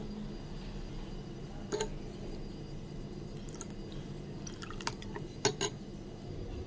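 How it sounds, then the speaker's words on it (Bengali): A spoon stirs cornflour into milk for homemade kulfi, giving faint liquid swishes and a few soft, scattered clinks against the container over a low, steady background hum. "দু চামচ কর্নফ্লাওয়ার এবার ভালো করে মিক্স করে নেব"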